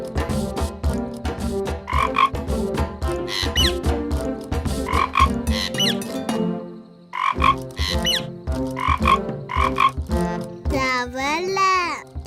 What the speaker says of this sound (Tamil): தவளை வந்தது, மழையும் வந்தது.